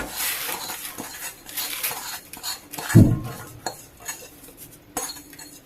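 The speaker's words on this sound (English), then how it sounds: "you empty the sugar into the bowl" Sugar is emptied into a bowl for a simple homemade vanilla cake, a soft pouring rustle with light scrapes and clinks against the bowl, one brief heavier knock midway, close and unspoken.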